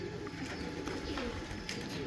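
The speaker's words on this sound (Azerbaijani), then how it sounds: "Hər cürə quş var." Pigeons coo steadily at a pigeon club, several birds overlapping in a continuous low, murmuring chorus with a few brighter chirps, close by and without talk.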